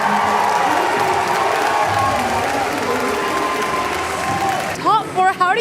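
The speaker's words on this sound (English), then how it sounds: "just listen to the crowd" At a huge Pokémon tournament, a big arena crowd roars with cheering, applause and whoops, a loud continuous din, before a close voice starts talking over it near the end.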